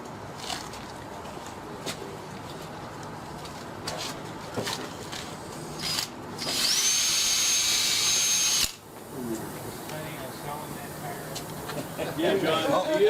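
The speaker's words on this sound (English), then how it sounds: "There's a drill." A power drill whines for about two seconds in the middle of trail repair work in a motorsports shop, rising steadily then cutting off abruptly, with people chatting in the background before and after.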